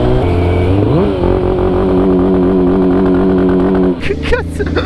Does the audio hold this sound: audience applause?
no